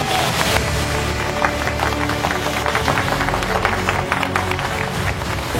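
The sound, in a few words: audience applauding the Inca Express winners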